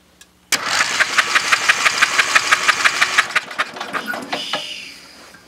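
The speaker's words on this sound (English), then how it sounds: "then we'll crank the motor over and make sure it's got spark" A small engine cranks over after its magneto was replaced, a rapid, even run of mechanical pulses for about four seconds that slows and sputters out, loud and close with no talk.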